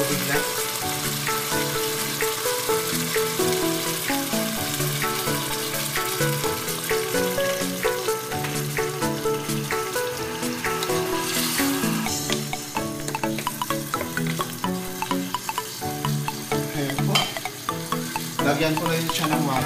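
Okra and eggplant sizzling loudly in a frying pan as a little water is added, a steady, close crackle and hiss with stirring scrapes that ease slightly partway through.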